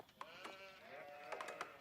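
Sheep bleat in the Age of Empires II strategy game, several short wavering bleats spread across the stretch, faint and distant with no talking over them.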